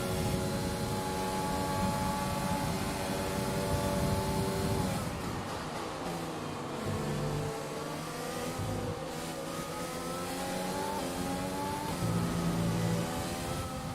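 An F1 race car engine in the F1 2020 video game screams continuously at high revs, dips once as it shifts or eases, then climbs again, loud and alone.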